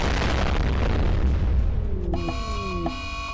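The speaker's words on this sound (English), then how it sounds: "Just firing a mortar" A mortar fires and its shell explodes in RimWorld, a long loud booming roar that slowly decays, followed by bright synthetic game tones and chimes over the fading rumble.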